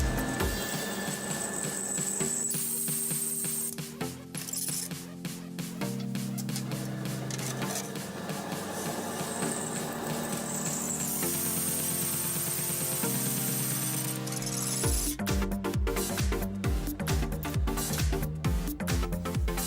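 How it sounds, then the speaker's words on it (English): An electric drill with a fitted bit bores holes at marked spots, the motor whining steadily with pitch shifts as it bites and eases, in several long passes without talk. "And drill the holes according to the marks."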